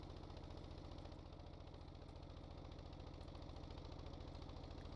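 In the Stormworks video game, a vehicle engine labours uphill with a steady, loud droning hum and an even low pulsing throb that holds constant for several seconds.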